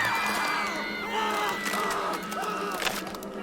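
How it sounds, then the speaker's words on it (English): A large crowd roars and cheers with shrill whistles rising over the din in the video game Tiny Bunny, loud and sustained throughout. "the crowd around her became louder. It started whistling and roaring."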